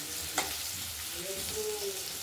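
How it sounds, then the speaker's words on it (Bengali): Potatoes sizzle and fry in a pan for a potato and tomato curry with fried paneer fritters, a steady close hiss broken by one sharp clink of a utensil early on. "আলুটা ভাজা হোক,"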